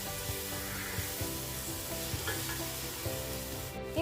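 Chicken kurma base sautéing in a pan, a steady close sizzle with a spatula stirring and scraping in light repeated strokes throughout, no voices.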